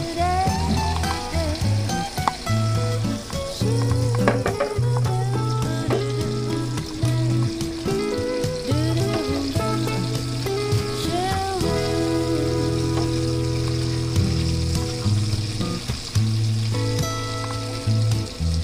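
Food sizzles and grills in a pan, a dense, steady frying crackle that stays close and loud throughout, with scraping and clattering of utensils on top of it.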